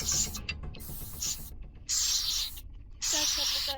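In the horror video game Granny, a pepper spray canister fires in three short hissing bursts with brief gaps between them. Mechanical clicks and faint game ambience sit underneath.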